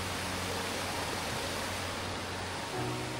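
A small waterfall in the Konkan countryside rushes in a constant broadband roar, close and unbroken, with no voices over it.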